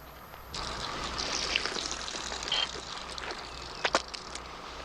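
Water runs from a garden hose in a steady, close trickle and pour, with a few brief splashy spikes near the end, no talking.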